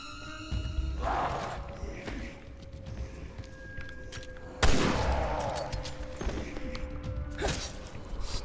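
A powerful gun fires in Resident Evil Revelations 2, with a few heavy shots spaced through the clip. The loudest blast lands near the middle, over a busy rumbling background of game noise.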